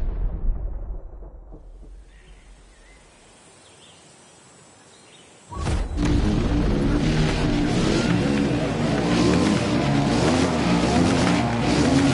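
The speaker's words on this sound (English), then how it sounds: "Pierce has set off for an all KTM race." Off-road motorcycle racing in The Crew Motorfest with an all-KTM field: after a quiet, low rumbling start, loud dense engine roar and racing noise burst in and hold steady to the end.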